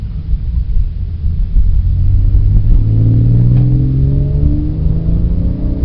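A Porsche 997.1 with a 4.1-litre engine revs hard from low to high RPM, its rumbling note rising steadily in pitch over several seconds, loud and continuous with no voices.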